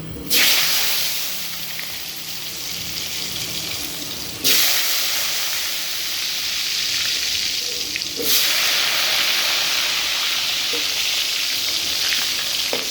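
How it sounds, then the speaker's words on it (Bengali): Potatoes drop into hot oil and fry with a loud, steady hiss that surges at each addition or stir, three distinct bursts over a constant close sizzle, no talking. "তেলটা গরম হয়ে গেছে, এবার আলুটা ভেজে নেবো।"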